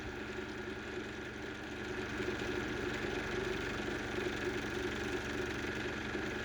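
A 3D printed rotor spins at high RPM with a steady droning whir and hum, its pitch and loudness rising slightly partway through and then holding constant.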